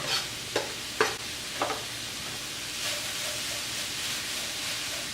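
Ground beef with a spoonful of oregano gets stirred in a hot pan, a few sharp utensil scrapes up front giving way to a steady, close sizzle and frying hiss.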